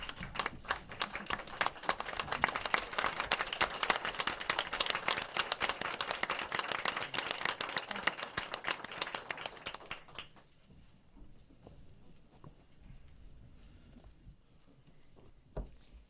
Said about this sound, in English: I just want to stand and give him a round of applause